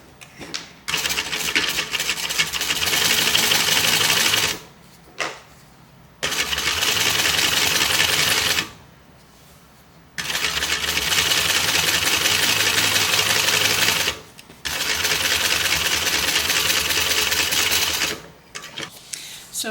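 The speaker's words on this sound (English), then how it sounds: "we're going to top stitch on the bottom piece here" A sewing machine top stitching a fabric flap, running in long steady whirring bursts of several seconds with short pauses between them.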